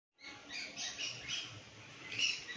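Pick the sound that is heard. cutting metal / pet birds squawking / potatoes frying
pet birds squawking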